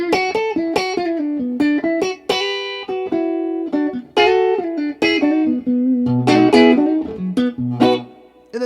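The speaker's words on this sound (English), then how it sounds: "Both pickups together, you get a hum canceling position." A budget Telecaster-style electric guitar with both pickups together, in the hum-canceling position, plays a clean jazzy run of chords and single notes, up close and alone for several seconds.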